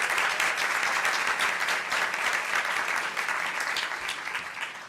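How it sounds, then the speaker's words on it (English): An audience applauding the Texas First Lady, Cecilia Abbott, at a University of Texas System press event, sustained dense clapping from a sizable crowd that holds steady and begins to fade at the end. "So let's give her a round of applause."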